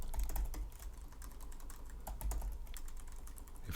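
Steady clatter of keys typed on a computer keyboard while setting up AWS for data science, a continuous run of close, moderately quiet keystrokes with no talk over it.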